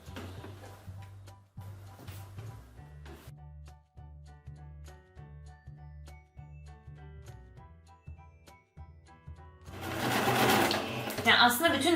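A home sewing machine stitches a 3D fabric face mask in quick, even runs of close mechanical whirring, pausing briefly between bursts, while someone talks over it and a louder rustle comes at the end.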